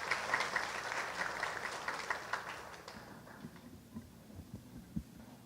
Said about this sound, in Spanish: recibamos con un caluroso aplauso a la doctora Silvia Romero Borda